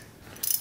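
A wrench ratchets a bolt tight: a brief run of quick, sharp clicks, close and fairly loud, comes after a short, quiet lead-in.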